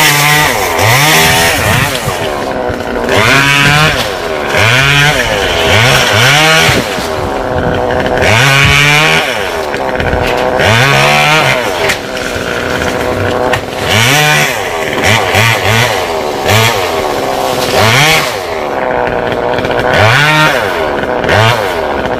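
A chainsaw cuts through a coconut palm trunk in Dong Nai, Vietnam, loud and close, its engine rising and falling in steady repeated surges as the blade bites into the wood and eases off, with no pause throughout.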